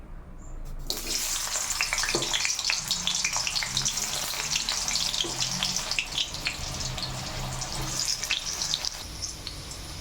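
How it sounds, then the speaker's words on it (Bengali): Potatoes sizzle and crackle steadily in hot oil in a kadai, a dense, continuous frying hiss with scattered pops running for the whole stretch at close range, with no voices over it. "তেলটা গরম হয়ে গেছে এবার আমি আলুগুলো ভেজে নেব"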